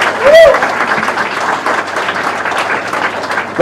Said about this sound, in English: Ladies and gentlemen, let's give Richard a round of applause.